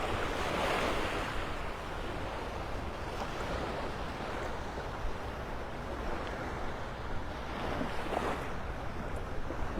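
Ocean surf rolls steadily onto a Gulf beach at Delnor-Wiggins in North Naples, Florida as the tide goes out, a continuous loud wash of breaking waves with light wind noise across the microphone.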